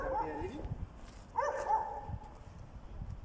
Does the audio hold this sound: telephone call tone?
no